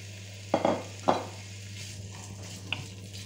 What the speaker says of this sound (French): Mon huile commence à... C'est bon. Allez, là, je mets ma viande.